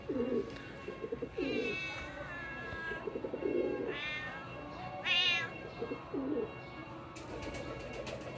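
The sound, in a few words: mother cat meowing, searching for her kittens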